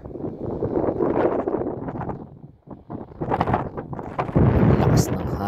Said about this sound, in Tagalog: Ang lakas ng hangin na ba, tapos ang lamig pa ng simoy talaga ng hangin